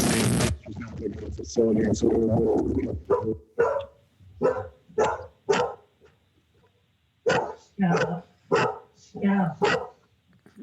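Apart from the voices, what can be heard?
dog barking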